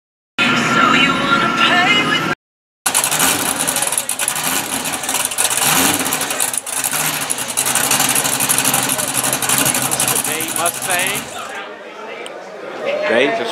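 A Mustang's engine runs loud and steady after being fired up at a street gathering, a dense rumbling roar close by with crowd chatter and voices over it, briefly cutting out near the start.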